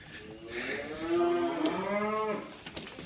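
Brangus heifers moo in a pen, one long, rising and falling low bellow lasting about two seconds, fairly close and loud against faint outdoor background noise, with no talking.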